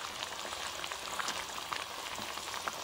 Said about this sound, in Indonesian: saya akan masukkan bendi dan cili hijau